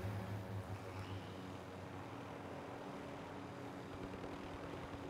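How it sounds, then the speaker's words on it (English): Propeller airplane flying overhead in the Call of Duty Warzone video game, a steady low drone with a throbbing hum that holds at an even level throughout, no talk over it. "airplane, y'all hear that?"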